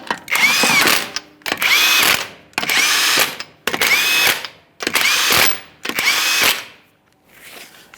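An impact wrench runs in six loud, steady bursts with brief gaps, torquing the wheel lug nuts on a 2015-2020 Ford F-150 during a wheel bearing and hub replacement, ending with a fainter short run.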